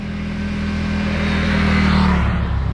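Motorcycle riding along a road, engine humming loud and close with a steady drone that builds slightly before cutting off abruptly at the end.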